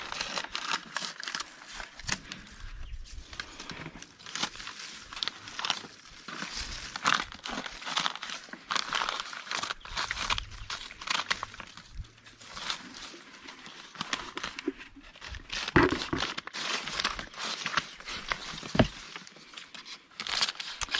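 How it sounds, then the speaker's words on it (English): Cut-up paper and a paper feed sack crinkle and rustle as they are added to a worm bin, with a dense run of close, crackly handling sounds and occasional tearing and crunching throughout. "We're adding some more paper that's cut up. This is actually a feed sack we're using."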